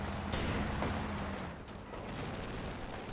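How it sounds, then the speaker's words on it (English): A half-track and penal troops opening fire in the video game Company of Heroes 2: a steady, rumbling wash of battle fire with overlapping shots and distant booms, sustained and fairly loud. "Half-track's gonna murder it with the penals opening fire."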